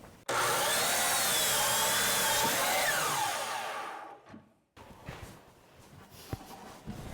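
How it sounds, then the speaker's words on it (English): Wooden boards cut to length with a power saw on a pastured farm: a loud, steady whine for a few seconds that winds down into quieter knocks and handling noises, with no talk. "so gotta trim them up."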